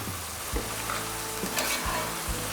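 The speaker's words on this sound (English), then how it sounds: "we're just gonna simmer that on low for a little while" A crawfish mixture simmers on low in a pot with a soft, steady sizzle, broken by a few short scraping stirs of a spoon against the pot.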